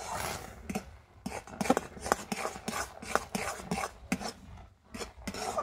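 Rice flour dough for pitha being stirred nonstop in a pan (kadai), giving repeated scraping, rasping strokes in an irregular rhythm, close and moderately loud, with no talk.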